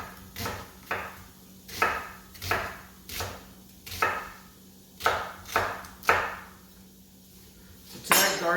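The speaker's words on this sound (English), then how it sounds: "we're going to chop a Spanish onion" Knife chopping a Spanish onion on a cutting board, about ten sharp, evenly spaced thuds at close range with a hum beneath.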